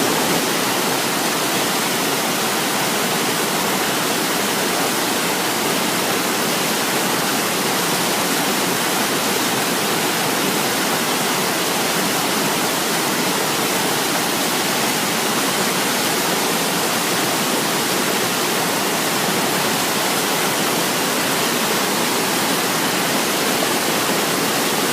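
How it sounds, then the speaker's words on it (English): River rapids roaring near a backpacking trail, a dense, constant broadband rush of white water that stays loud and unchanging throughout, with no voices. "big giant rapids right above,"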